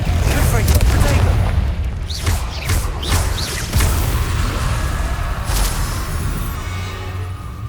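Blasting-curse spell explosions in the Hogwarts Legacy video game, with booming impacts, whooshes and crashing debris. A player voice talks over the loud, steady game mix.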